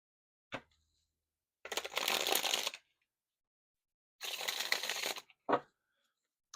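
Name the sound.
shuffling tarot cards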